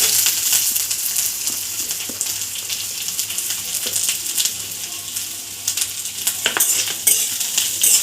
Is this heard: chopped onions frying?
yes